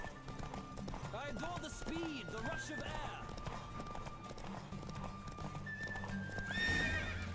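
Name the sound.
horse galloping in a race, video game The Witcher 3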